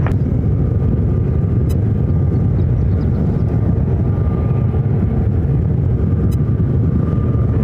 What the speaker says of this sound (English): UPS 757-200 coming in from Boise, Southwest Idaho.